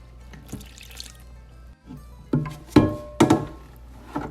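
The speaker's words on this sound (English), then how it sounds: "pour this right here over the flour" Water is poured from a container over flour for ciabatta dough, starting with soft trickles and ending in a few louder splashing pours and thunks near the end, with no talking.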